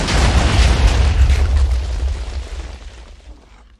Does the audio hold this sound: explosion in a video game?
yes